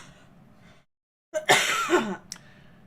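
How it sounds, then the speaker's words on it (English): Someone coughing and clearing their throat in a quick burst of harsh, close-up coughs after a short pause, with a final brief cough at the end; no speech. "Put your guesses in now while I cough."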